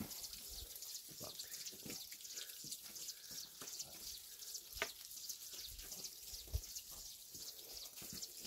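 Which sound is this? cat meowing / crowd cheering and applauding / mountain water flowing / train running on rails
mountain water flowing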